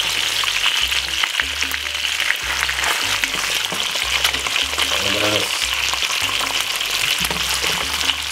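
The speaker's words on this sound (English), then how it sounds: "you don't want to burn up the bacon, but you want it to have a little bit of color" Bacon sizzles and crackles steadily in a frying pan for a breakfast fry-up, loud and close, with a continuous hiss throughout.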